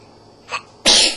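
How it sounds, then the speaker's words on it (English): A young child sneezes once up close: a short intake sound, then a sharp, loud sneeze burst that fades away over a quiet indoor background. "Did you sneeze?"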